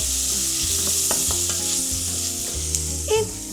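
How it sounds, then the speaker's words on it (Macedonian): Garlic and onion frying in a pan, a steady loud sizzle with occasional stirring clicks and scrapes, close up and without speech. "Додавте го лукот во кромидот да се пропржи."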